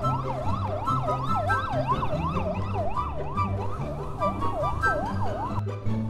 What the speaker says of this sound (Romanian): Și avem și ambulanța pe spate.